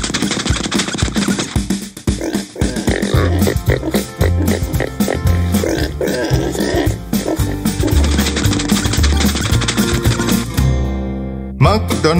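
Pig oinking in a Tamil children's farm rhyme, sung as repeated oink sounds by a voice imitating the animal over loud, bouncy backing music.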